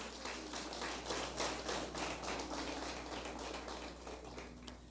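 Congregation clapping to praise God at an evening church service, a steady dense patter of many hands sustained throughout at moderate loudness with no talk over it.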